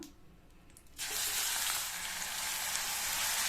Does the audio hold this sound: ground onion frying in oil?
yes